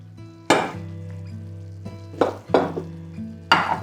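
About 50 grams of butter melting in vegetable oil in a pan, sizzling softly under a steady hum, with several sharp scraping strokes of a utensil stirring against the pan.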